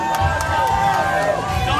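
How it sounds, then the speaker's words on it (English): A crowd at an oyster eating competition in Santa Barbara makes noise, a loud mix of cheering and babbling voices with sharp shouts rising above the steady roar. "Come on, people, make some noise. Cheer on."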